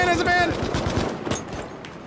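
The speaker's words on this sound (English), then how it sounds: "Oh, I'm already getting shot." Rapid automatic gunfire from a Battlefield match bursts loud and close in a dense rattling stream, with excited players talking over it.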